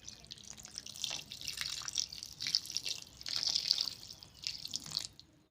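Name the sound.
water poured into pan with fish steak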